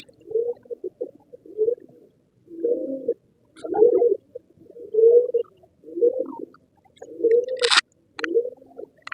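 Pigeons coo nearby in a series of about eight low, throaty, rolling calls spaced roughly a second apart, with brief quiet gaps between them and a short sharp click near the end.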